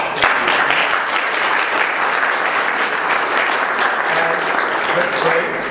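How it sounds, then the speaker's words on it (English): Audience at a user group talk applauding after a presentation, full continuous clapping from many people close by, steady in level, with some voices mixed in. "So let's give a round of applause."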